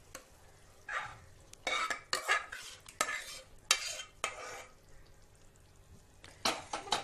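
Dal being stirred into tomato puree cooked in oil until the oil separates, in a pot for dal makhani: irregular scraping and stirring strokes with faint sizzling, fairly quiet and close, no talking.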